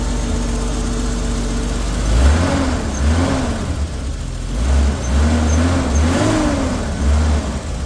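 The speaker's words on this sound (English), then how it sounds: "So, yep, that's straight cold start." A 1980 BMW 528i E12 with its engine cold, idling close by, then revved in several rising bursts that fall back to idle, with a steady, even engine note between the revs.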